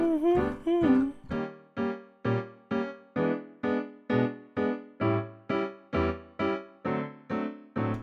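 Piano playing a steady, evenly repeated right-hand chord pattern over a bouncing, tuba-like bass line, bright and close with a regular beat.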